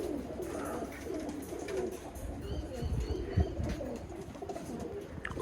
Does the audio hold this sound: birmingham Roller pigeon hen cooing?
yes